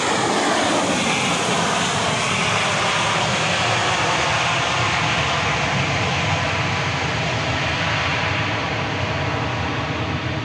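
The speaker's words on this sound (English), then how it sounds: "just in time for the arrival of a plane from Los Angeles, a 737-700" A Boeing 737-700 arriving at Dallas Love Field from Los Angeles roars loudly and steadily, its engine noise a broad continuous rush that fades slightly toward the end, with no talking.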